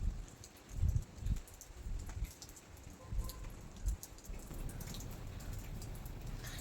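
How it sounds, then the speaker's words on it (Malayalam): Rain falls outdoors in a steady, moderately quiet hiss, with a few soft, low thumps near the start and no voices. "ഇന്നും ഇങ്ങോട്ട് മഴ തന്നെയാണ്."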